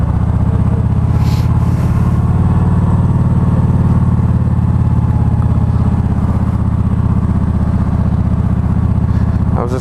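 A group of Harley-Davidson motorcycles rumbles in a loud, continuous low drone on a twilight ride, engines thrumming steadily up close with a faint clatter and no talking.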